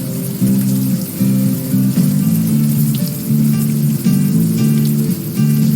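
Rain falls steadily in the video game Unavowed, a constant hiss of drops spread across the whole clip, with a low pulsing tone of game music repeating underneath.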